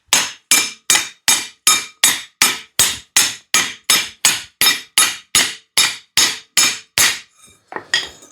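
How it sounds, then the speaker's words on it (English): Loud, steady hammer blows on a Honda NTV650 motorcycle's metal frame, about two per second, ringing sharply, followed by a few lighter taps at the end. "Enough frigging hammering for this video"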